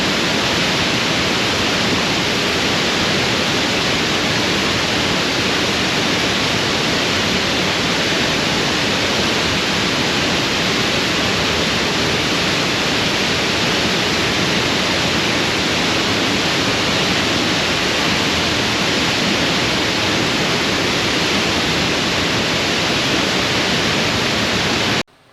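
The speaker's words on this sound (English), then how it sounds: "That's not even actual, just the water hitting the ground" A roaring waterfall in Wells Gray, British Columbia, with water pounding the ground below, sends out a constant, loud, broadband rush that holds unchanged throughout, with no voices over it.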